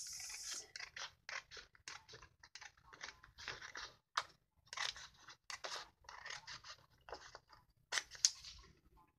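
Scissors snipping away paper pieces of a fancy shape craft box, a close run of crisp, irregular cuts separated by short pauses, quiet and alone.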